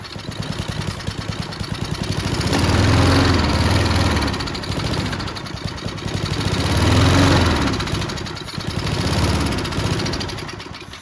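A junkyard lawnmower engine with a complaining intake valve runs close and rough, with a fast, uneven beat that swells in a few revving surges before settling back to idle.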